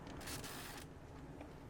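A Pentax zoom-lens film camera fires its shutter, a brief mechanical whir and click in a quiet room, close and faint, followed by a small tick.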